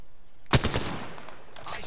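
A short burst of rapid automatic gunfire rings out in the Apex Legends shooter game while a cargo bot is shot down, a sharp crack followed by a brief rattling volley and a fading tail.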